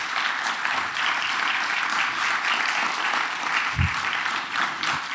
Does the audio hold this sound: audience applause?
yes